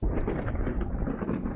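Thunder on a rainy night at a castle in the strategy video game Wargroove, a deep, loud rolling rumble that fills the whole short moment without any voices.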